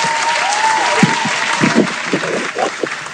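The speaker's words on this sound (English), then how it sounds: "You guys hear the clap, right?" An audience at a live business talk claps in a dense, steady burst of applause lasting a few seconds, with a few voices mixed in.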